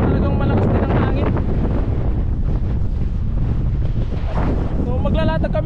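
A loud, constant gusting wind at the seashore batters the microphone, with surf churning beneath and a person talking under the roar.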